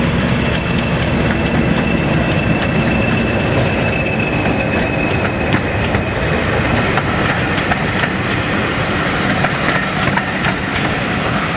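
A train runs on the heritage M&GNJ line between Holt and Cromer near Weybourne, a loud continuous rumble with rhythmic clickety-clack of wheels over rail joints and a faint wheel squeal, heard close up and alone.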